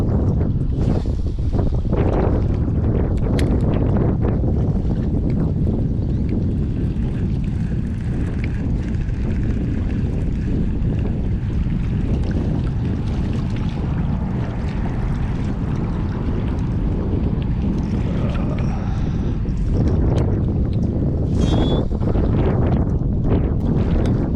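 Wind gusting across a microphone beside a rocky riprap bank while bass fishing, a constant loud low rumble and buffeting that swells and eases without pause.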